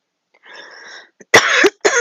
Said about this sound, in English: Please excuse the cough.